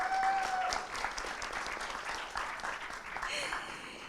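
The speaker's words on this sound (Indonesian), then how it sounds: "boleh saya dengar antusiasmenya dengan memberikan tepuk tangan yang meriah" At a startup pitching session, an audience claps for about four seconds, the applause sounding faint and somewhat distant with a steady patter.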